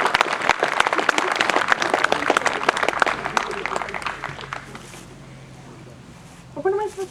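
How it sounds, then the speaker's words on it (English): Crowd applause for veterans at an outdoor Veterans Day ceremony in a city park, a dense steady clapping that runs loud for about five seconds, then fades out, followed by a brief voice near the end. "we would like everyone else to applaud these gentlemen for and ladies for their efforts"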